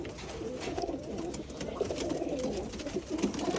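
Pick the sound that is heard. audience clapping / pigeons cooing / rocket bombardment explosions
pigeons cooing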